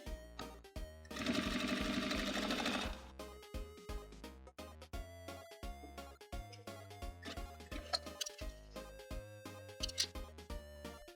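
Sewing machine stitching a jeans waistband, running in a loud steady burst near the start, then starting and stopping in short bursts throughout.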